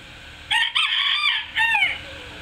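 A rooster crows loudly and close by near a portable garden chicken coop, one long strained call broken into three tonal bursts over a faint background.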